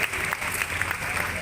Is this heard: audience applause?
yes